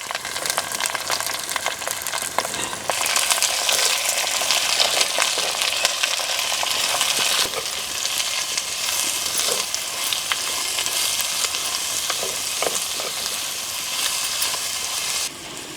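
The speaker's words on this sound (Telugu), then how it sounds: "అలాగే చిన్నగా కట్ చేసిన ఉల్లిపాయ ముక్కలు కూడా వేసుకుంటున్నాను తర్వాత పచ్చిమిరపకాయ ముక్కలు కూడా వేసుకుంటున్నాను" Chopped onion and green chili pieces fry in hot oil with a steady, loud broadband sizzle that swells as more pieces go in, with occasional scraping stirs and no talking.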